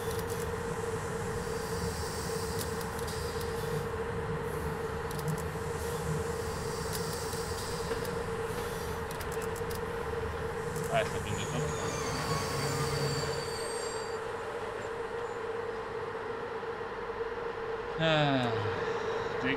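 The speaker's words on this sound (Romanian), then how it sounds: "Este un tren" A train in the Train Simulator game rumbles steadily at a distance, then wheels squeal sharply near the end as it approaches, with a low continuous hum throughout.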